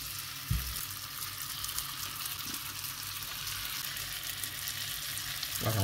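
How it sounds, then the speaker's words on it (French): Cheese samosas fry in a shallow pan of hot oil, giving a steady broadband sizzle that runs the whole time, with a couple of brief clinks near the start and end and no talking. "On va les faire revenir 3 minutes environ"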